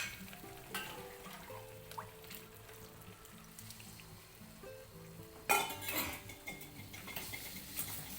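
A spoon stirs and scrapes rajgira halwa in a pot, with quiet intermittent clinks and watery bubbling, then a sharp louder clatter and splash partway through, close and without speech.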